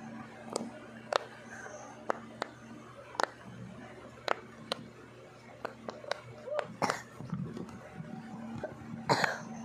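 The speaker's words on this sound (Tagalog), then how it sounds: "At inuubo pa ako." A person coughs repeatedly in short, sharp bursts spread across a quiet room, with a few throat-clearing sounds and faint background noise between them.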